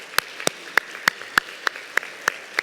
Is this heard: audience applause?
yes